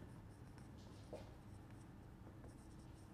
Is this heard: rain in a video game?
no